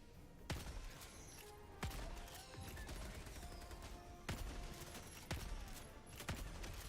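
Gunshots from a gun in a video game, several sharp cracks spaced a second or so apart over a low steady rumble, faint and distant-sounding.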